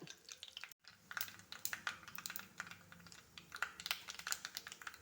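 Mustard seeds pop and splutter in hot oil in a curry pot on the stove, a quiet stream of sharp, irregular crackles and ticks close by.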